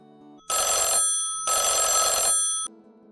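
A telephone bell rings in two long, loud bursts separated by a brief pause, with a faint tone sounding before and after.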